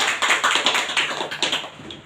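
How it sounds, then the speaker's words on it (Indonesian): A small classroom group claps for a student, with quick, fairly close handclaps that run steadily for about two seconds and then stop abruptly. "Beri tepuk tangan buat Suci"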